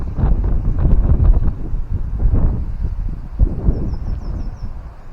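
Steady wind blowing through a garden, buffeting the microphone with low rumbling gusts that rise and fall over a few seconds, with a faint bird chirp near the end.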